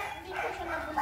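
A small-breed dog, such as a Chihuahua, Pomeranian or poodle, gives a short, soft yip or bark lasting about a second, faint and somewhat distant with low background noise.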